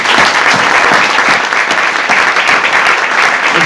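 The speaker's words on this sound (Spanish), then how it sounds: "con un fuerte aplauso de todos los presentes" A gathered audience gives Homero Bibiloni strong, loud, continuous applause, dense clapping filling the whole moment close up without pause.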